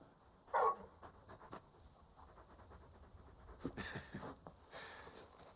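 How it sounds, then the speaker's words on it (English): Large in-game dog in Final Fantasy XVI pants in short bursts, with a brief louder huff near the start and faint breathy sounds later over quiet game ambience. "You're just a big puppy, aren't you? A very big puppy."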